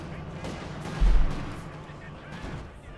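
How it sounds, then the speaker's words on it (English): Company of Heroes 2 battle gunfire of anti-tank rifle shots, heard as a dull boom followed by muffled distant cracks under a rumbling battlefield background, with a voice talking over it. "They're just firing off shots here."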